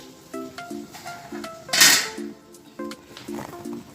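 Fried chicken being moved into a bowl in a kitchen: light metal and ceramic clinks tap out a brisk, irregular pattern, broken midway by a louder scraping clatter. No one speaks.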